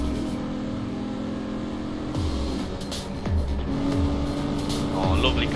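A race car engine in the Real World Racing video game drones and shifts pitch while cornering, with revs rising and falling through the turns. Someone talks over the game sound.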